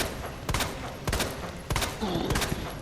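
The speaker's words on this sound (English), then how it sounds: "We're going to fire 20 bullets. You want to just hold the aim button and the fire button and just fire as fast as you can" Rapid gunfire in Resident Evil, Leon on hardcore difficulty, a string of sharp shots fired in quick succession at a roughly even pace with a brief gap midway, loud and close.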